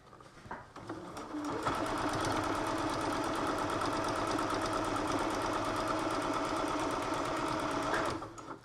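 A sewing machine stitches along the fabric edge of a face mask in one long steady run, a close, even mechanical whir with a rapid needle rhythm that starts up, holds for several seconds, then stops.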